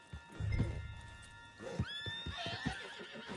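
A horse in the video game Red Dead Redemption whinnies with a rising, tonal call, accompanied by soft hoof and movement noises in a quiet setting.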